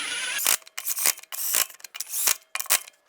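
Lug nuts being tightened on a Jeep Wrangler wheel, quick ratcheting wrench bursts, about five close loud runs separated by short pauses, no speech.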